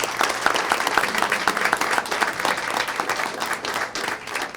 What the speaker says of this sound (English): So let's give them a big round of applause as well.